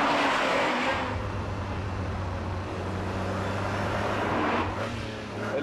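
A Ferrari Testarossa's V12 engine pulls hard in first gear toward 7000 rpm, a loud, continuous, climbing wail with strong harmonics that swells and fades slightly as the revs build.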